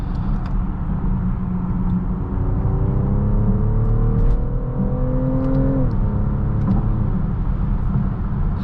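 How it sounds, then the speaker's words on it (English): A 2024 BMW X5 50e plug-in hybrid in sport mode accelerates through its 8-speed transmission, the engine note climbing steadily in pitch over several seconds, then dropping at a shift into a steady cabin rumble. "Popping it into sport transmission really unlocks some more out of this engine"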